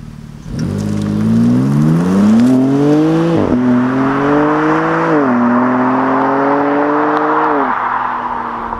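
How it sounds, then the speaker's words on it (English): A BMW with rear spoiler and front lip accelerates hard at full throttle uphill, engine note climbing loudly through several gear changes with short dips between shifts, close and dominant. "let's see how fast the car goes"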